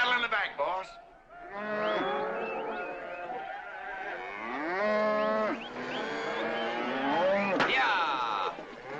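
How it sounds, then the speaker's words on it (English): Cattle in the back of a truck moo loudly and close, long drawn-out bellows overlapping one another almost without pause for several seconds. "You got cattle in the back"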